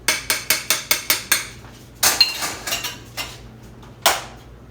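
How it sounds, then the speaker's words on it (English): Spoon clinks against baked jicama bean dishes while sauce is mixed in, a quick even run of about seven sharp taps, then a few irregular scraping knocks and one last clink, close and clear with no talk. "I'm going to put a little bit of my sauce into each one and mix it up"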